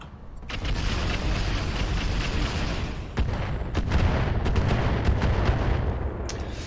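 A dense, loud wall of missile launches in RogueTech, a mech combat game, firing as one salvo with overlapping booms and sharp bursts sustained over several seconds.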